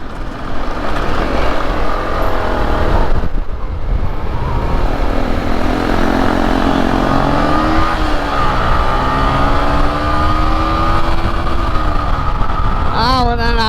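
A Kawasaki Ninja 250 motorcycle engine drones loudly, then climbs through rising revs as it accelerates, with a brief dropout midway and a noisy, rumbling background.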